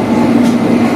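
A London Underground S7 Stock train on the Hammersmith & City line runs with a loud, steady, droning rumble and hum heard from inside the carriage.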